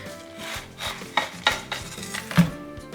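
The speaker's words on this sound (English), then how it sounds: "Everybody has their own way of how they cut up a watermelon," A knife slicing through a watermelon, giving a few rasping, scraping cuts with small clicks of the blade, close up and fairly quiet, with no talking.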